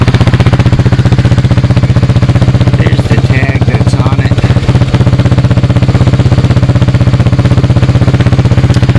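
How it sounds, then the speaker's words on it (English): A Roketa 110cc off-road go-kart engine idles steadily while warming up, a loud, close, even putter with a faint clatter on top and no break. "Sorry if the engine's loud."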